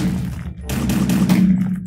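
Machine gun turret in Minecraft firing at a pig, with three or four loud rapid bursts of gunfire in the second half after a short lull.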